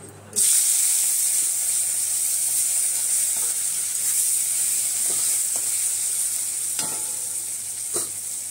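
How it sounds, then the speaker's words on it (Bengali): Prawns and prawn heads fry in a hot wok with a steady, loud sizzle throughout, a few stirring scrapes and crackles breaking through near the end. "কড়াটা আমাদের গরম হয়ে গেছে, মাছগুলো দিয়ে দেবো। মাথা আর মাছগুলো দিয়ে ভেজে নেব।"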